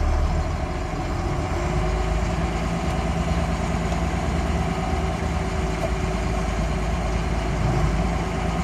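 A P-pump Cummins diesel truck engine runs steadily at close range after a transmission rebuild, with a constant low rumble and no distinct gear changes standing out.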